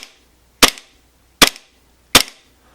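Three sharp handgun shots fired during trigger follow-through practice, evenly spaced about three-quarters of a second apart, loud and close with brief ringing decay and no talking.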